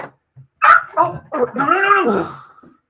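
A pet dog barks and yelps close by indoors, a few sharp short barks followed by a longer whining, howling yelp that trails off.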